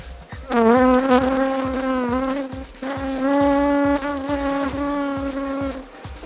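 Close, loud honeybees buzz continuously around a comb being cleared of bees, their droning pitch wavering as they swarm, with a brief dip in the middle before the buzzing swells again.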